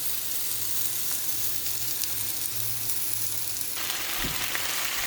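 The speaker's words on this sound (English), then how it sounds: "I decided to heat the meatloaf up in this hot seasoned skillet." Meatloaf warming in a hot, seasoned skillet with onions, giving a steady close sizzle and frying hiss that runs unbroken, with a brief louder crackle near the end.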